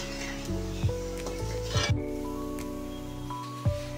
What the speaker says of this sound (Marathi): हे बघा असे गोल्डन रंग येऊस तर अशा तळायचे ते।